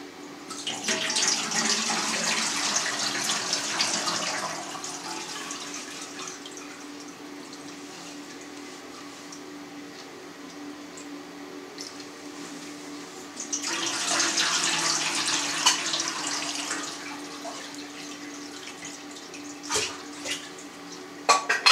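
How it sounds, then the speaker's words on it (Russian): Whey drains from homemade farmhouse cream cheese in a steady splashing, pouring stream, louder at the start and again midway, with a few clinks near the end. "А пока наша задача отобрать 6 литров сыворотки."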